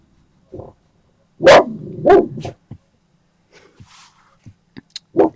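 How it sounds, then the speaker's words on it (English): Neighbouring dogs next door barking, a few loud, close barks in a short burst followed by quieter scattered yips and clicks, heard alone. "there could be a bark alert because this next door's dogs have just started to bark"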